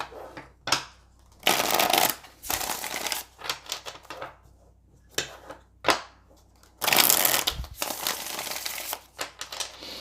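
Oracle cards being handled and shuffled for a love reading, with repeated bursts of crisp riffling and flapping in uneven clusters, close and fairly loud, no talking.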